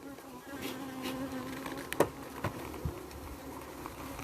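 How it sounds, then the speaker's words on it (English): Bees inside a colony hive hum in a continuous low drone close by, with a few soft knocks and rustles scattered over the buzzing. "See the bees, they quiet down a bit."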